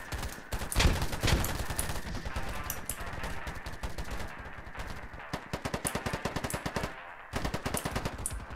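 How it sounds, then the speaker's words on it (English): Automatic gunfire from the shooter game Polygon crackles nearly nonstop, with sustained rapid bursts and a stretch of distinct staccato shots toward the end, loud and close throughout. "He's shooting after me!"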